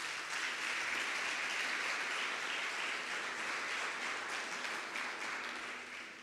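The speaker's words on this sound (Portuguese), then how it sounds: "Dê um forte aplauso ao Senhor." A church congregation gives strong, sustained applause, a dense wash of many hands clapping at once that carries on steadily and begins to fade toward the end.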